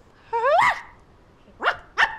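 A dog gives a drawn-out yelping bark followed by two sharper, shorter barks, close and loud over a quiet background.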